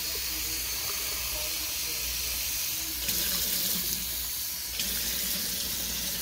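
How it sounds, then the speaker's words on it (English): Cold water pours steadily from a kitchen sink tap in a continuous close hiss, briefly swelling louder twice as the flow shifts. "I just get really cold sink water."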